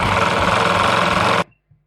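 A sewing machine stitches a salwar in a close, loud, steady whirring run for about a second and a half, then stops abruptly, leaving a faint click.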